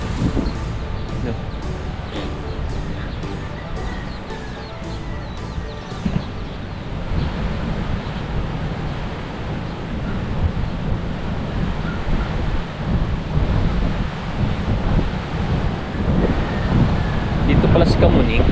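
Sea waves and wind rush steadily at a shoreline near a market in Bucana, a continuous loud roar of surf with wind buffeting the microphone; a person talks intermittently over it.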